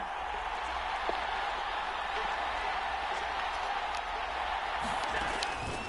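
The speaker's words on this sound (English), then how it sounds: "Crowd getting in it a bit already" Stadium crowd at a football game, a steady broad roar of many voices holding loud and continuous throughout, with faint scattered shouts on top.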